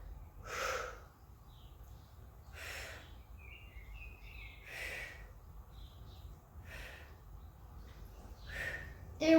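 Slow, audible breaths in and out during a glutes and abs workout, several breathy bursts repeating every couple of seconds, close and fairly soft, with no talking over them.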